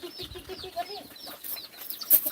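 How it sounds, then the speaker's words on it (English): Baby chickens cluck and peep softly nearby in a busy Philippine farmyard near a pig's feed, with scattered chirps and light rustling. "Look at the little baby chickens."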